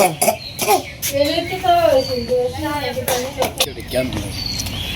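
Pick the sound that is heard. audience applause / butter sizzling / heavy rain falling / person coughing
person coughing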